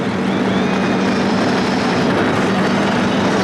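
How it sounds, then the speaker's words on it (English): NASCAR stock car engines running at Daytona International Speedway on a drizzly race day, a dense, steady roar heard from the grandstands, loud and unbroken with no talk. "the engines have started"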